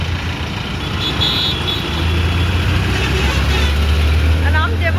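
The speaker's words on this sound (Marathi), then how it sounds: "संध्याकाळच्या वेळेस खूप ट्रॅफिक असते" Evening road traffic flows past with a continuous engine rumble and passing vehicles, moderately loud and close, while voices talk over it.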